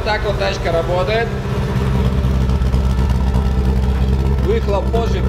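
A Toyota Corolla FX GT engine runs steadily at idle nearby, a low even drone with slight rev wobbles, while someone talks over it at the start and end.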